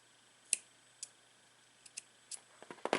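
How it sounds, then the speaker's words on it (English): Scissors snip through a cord knot on a handmade bracelet, giving several sharp, close clicks spaced through the quiet, clustering faster near the end. "I will take the scissors and cut the knot"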